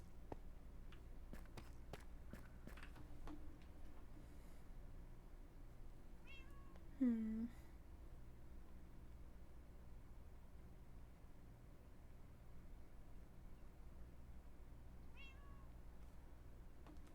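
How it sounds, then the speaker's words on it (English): A single faint cat meow sounds once in a quiet room over a low background hiss, with a few soft taps around it. "Someone's got a cat, because I did just hear that."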